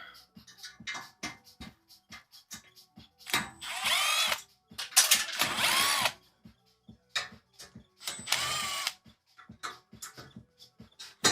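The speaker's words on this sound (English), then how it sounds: "Drill, baby, drill, they say." A power drill works in short bursts while server rack hardware is mounted, two longer whirring runs standing out among scattered clicks and handling knocks, fairly close.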